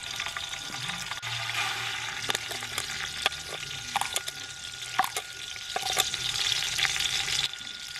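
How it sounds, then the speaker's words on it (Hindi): Sugar added to hot oil in a pan, sizzling under a steady hiss while a utensil stirs with scattered light scrapes and clicks. "ऑयल गर्म हो चुका है, तो अब हम इसके अंदर चीनी शामिल करें।"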